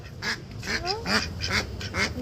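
Ducks at a poultry shop quack repeatedly in short nasal bursts, several calls overlapping in an irregular rhythm at close range, with faint shop background noise beneath.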